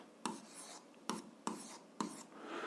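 Hand-writing an algebra equation, a few faint, scratchy strokes in short separate bursts, quiet and close with no speech.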